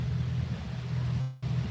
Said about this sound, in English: Must be a speedboat.